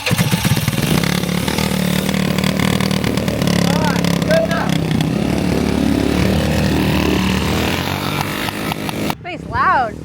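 A motorcycle with its exhaust cut open runs loud and raw, a rough droning engine close by that holds steady, then drops away sharply near the end, with people talking faintly around it.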